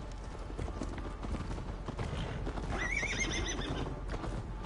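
Horse neighing and galloping hooves in the video game Assassin's Creed Valhalla, a clear whinny rising over steady clip-clop of hooves amid busy game sounds and ambience.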